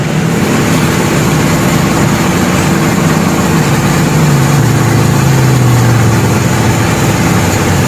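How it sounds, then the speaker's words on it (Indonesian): Coconut charcoal briquette dough mixing and molding machines running together, a loud continuous mechanical drone with a low motor hum that slowly dips in pitch, steady throughout with no talking. "Dari mesin pengadonan masuk ke mesin cetak."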